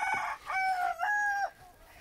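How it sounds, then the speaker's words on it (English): Chickens call from inside their coop on a snowy farm, with a loud, drawn-out crowing or squawking cry in two long phrases and brief clucks, close and clear with no talking over it. "That's where the chickens are."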